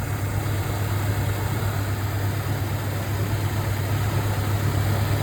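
A Ford Ranger engine idles steadily after a coolant leak repair, a continuous low rumble with an even hum and no changes in pace.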